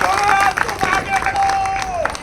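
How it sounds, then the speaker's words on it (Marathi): A crowd at a public lecture claps for Kishor bhau, a loose burst of applause mixed with murmuring voices and a faint sustained tone in the background. "आणि म्हणून किशोर भाऊसाठी एकदा जोरदार टाळ्या वाजवा"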